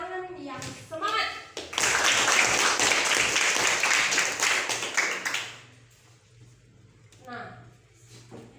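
A class of students claps hands in a lesson, with a short burst of scattered claps building into about four seconds of loud, lively applause that then stops, leaving voices talking quietly before and after.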